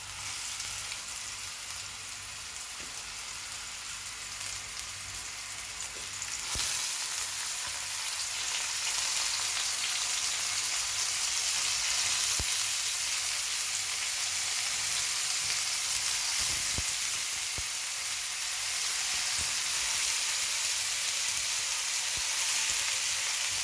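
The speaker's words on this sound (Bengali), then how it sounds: "এই পর্যায়ে মাশরুমগুলো আমি একটু ভেজে নেবো এখানে সব কিছু আছে এগুলো আস্তে আস্তে দিয়ে সবগুলো ফ্রাই করে নেব" Mushrooms fry in a pan for noodles with a steady, continuous sizzle that swells slightly after a few seconds and carries on with occasional faint clicks.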